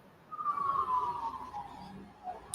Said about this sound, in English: that's like the fourth fucking ambulance that drove past